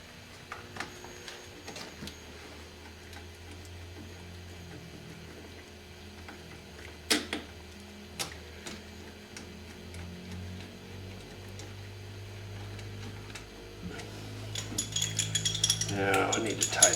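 Window regulator bolts being tightened by hand tool on a Mercedes 300D (W123) door, giving soft mechanical clicks and ratcheting through a quiet background, with a couple of sharper knocks and a busier scraping burst near the end.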